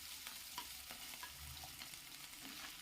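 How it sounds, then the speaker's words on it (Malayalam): Onions sautéing with garlic and ginger in coconut oil for a Kerala fish curry, giving a steady faint sizzle with occasional stirring scrapes throughout. "അതിനുശേഷം നമ്മൾ എടുത്ത് വെച്ച സവാളയും കൂടി ഇട്ടൊന്ന് വഴറ്റിയെടുക്കാം"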